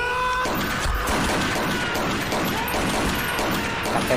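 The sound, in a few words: gunfire in a film scene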